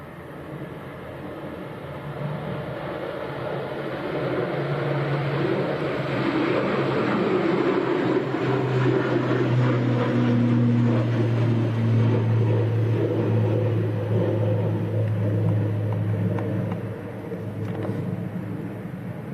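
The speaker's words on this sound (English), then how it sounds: "here comes the Aer Lingus. This is going back to Dublin, up and away." An Aer Lingus airliner bound for Dublin takes off from Leeds Bradford Airport on a windy evening. Its broad, rumbling engine roar swells and holds steady for most of the clip, then eases slightly near the end, with no talking.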